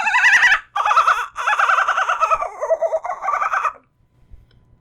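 A person imitates a kookaburra call with a loud, warbling, cackling voice in several rising and falling bursts, alone and close, ending in quiet.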